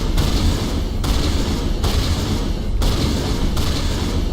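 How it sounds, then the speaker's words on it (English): Shotgun blasts in a video game, five loud booming shots at a steady interval of about one second, each followed by a short decaying tail, with no talking. "Shotgun."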